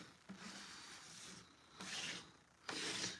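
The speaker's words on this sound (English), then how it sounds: "And now we're just going to scrape up all this extra." Excess glittery craft material is scraped up from a buffalo plaid door hanger project, heard as several close, gritty rubbing passes, with the loudest strokes near the end.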